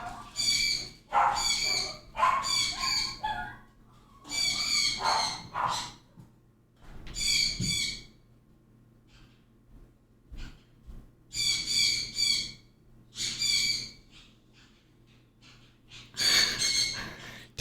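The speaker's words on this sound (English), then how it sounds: "The birds, you hear them?" Bird calls ring out in repeated bursts with short pauses between them, fairly close and clear, alongside soft breathing-like noise and low hum.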